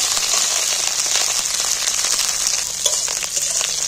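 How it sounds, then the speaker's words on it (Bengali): Chopped okra fries in hot oil and is stirred, producing a steady, close hiss of sizzling with faint scraping and small pops throughout, with no voices. "ঢেঁড়সটা তেলের মধ্যে আমি একটু নাড়াচাড়া করে ভালো করে ভেজে নেব"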